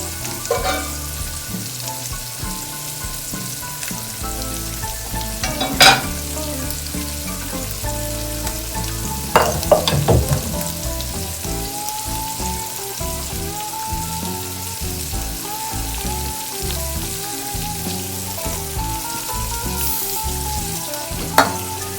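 Shrimp sizzle loudly and steadily in a hot pan, a dense frying crackle with a few sharp utensil clinks and scrapes scattered throughout.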